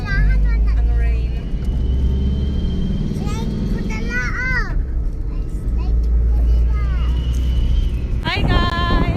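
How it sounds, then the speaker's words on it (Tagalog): Engine drone and road rumble while riding on a tricycle, with wind buffeting the microphone and people talking and exclaiming over the motor noise. "On a tricycle, going to Little Playa."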